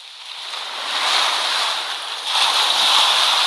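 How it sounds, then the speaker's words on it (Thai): A steady hiss of ocean surf from a phone sound app swells and recedes, a continuous broadband wash of waves with no voices. "อันนี้ก็เสียงทะเลนะครับก็เห็นไหมครับได้ยินเสียงทะเลออกมา"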